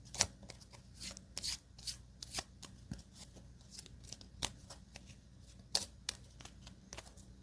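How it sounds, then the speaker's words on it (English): Playing cards riffled and shuffled by hand in a quiet close-up setting, a run of crisp, snappy bursts and ruffles at irregular intervals, near and fairly soft, with no talking. "And then we shuffle the deck."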